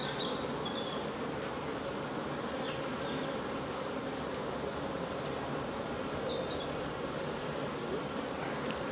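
Honey bees buzz over an open beehive near ivy flowers in autumn, a constant close drone of many insects with a few brief higher whines of individual bees passing by.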